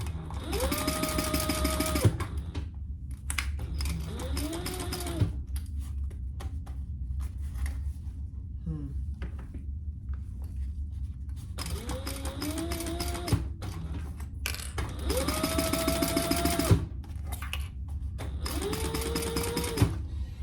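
Domestic sewing machine stitching a crossbody bag runs in several loud bursts, each a fast, steady mechanical whir with a rising motor whine, separated by short pauses with handling noise and no talk.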